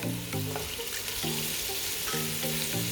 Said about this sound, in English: Saute the onions for 2 minutes. We will add chopped carrot